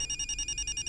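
A phone rings in a Hindi comedy movie scene, sounding as a rapid pulsing electronic trill that repeats in quick even bursts, loud and alone with no talking.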